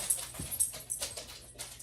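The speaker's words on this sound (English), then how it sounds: "the dogs are running around. I'm sorry for the noise." Dogs whimpering and scampering indoors in a home quilting room: faint, high whines and yips in several short bursts, some distance from the microphone, with light scuffling between them and no talk.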